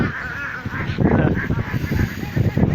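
Ducks honk and quack in a steady, overlapping chorus on a village wetland in rural Bangladesh, fairly close and continuous, with some nearby voices mixed into the calls.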